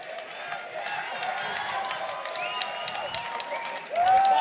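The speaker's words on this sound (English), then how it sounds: "And the crowd is going to go wild" Crowd at a live MMA event cheering and applauding at the end of a fight, a dense continuous roar that swells louder near the finish, with commentators talking over it.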